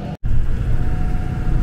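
Tow truck engine rumbling steadily and close as it drives into a Walmart parking lot, a low continuous drone with a brief dropout near the start and no talking.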